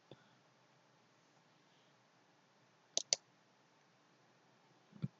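Computer mouse button clicks during a software install, a quick double click followed a moment later by a single click, crisp and close in a quiet room.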